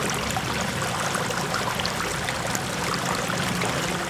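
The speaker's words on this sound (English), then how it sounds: "the last one is water running across rocks, and that is the least amount of sound" Water runs over rocks in a pondless waterfall, a steady broadband wash of trickling and splashing that stays even and close throughout, with no talking.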